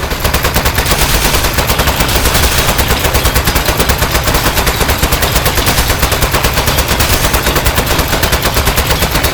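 A turret in Aperture Desk Job keeps up a rapid, steady stream of automatic fire throughout, loud and close, with no pauses and no voices.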